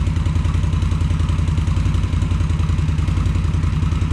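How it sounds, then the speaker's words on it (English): A 2018 Indian Scout Bobber V-twin with Vance and Hines Twin Slash Cut mufflers idles after a cold start, heard from about four feet behind: a loud, steady, throbbing exhaust burble with a fast, even pulse and no talk. "Got the Vance And Hines twin slash cuts mufflers installed. I'm gonna do a sound check."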